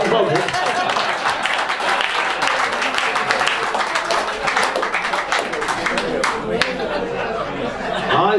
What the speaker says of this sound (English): what about a big round of applause for Fred